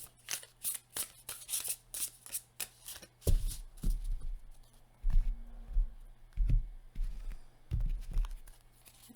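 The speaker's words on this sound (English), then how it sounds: "One more shuffle." Tarot cards are shuffled by hand up close, a fast riffling flutter of card edges with a rhythmic pattern, followed by softer handling, thumps and shifting of the deck.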